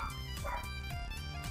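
Dogs bark outdoors, a quick series of four or five sharp barks in an even rhythm, fairly faint and distant over a low steady hum.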